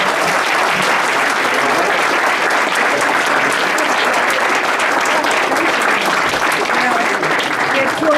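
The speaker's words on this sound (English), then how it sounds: "Round of applause." A crowd at a park district volunteer and patron awards reception gives a long, dense round of applause. The loud clapping is steady and continuous throughout.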